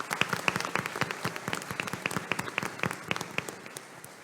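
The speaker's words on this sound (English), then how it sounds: "let's give all these athletes another round of applause" Close, brisk applause from an audience at a commission meeting for athletes, many hands clapping quickly and unevenly, filling the room for a few seconds.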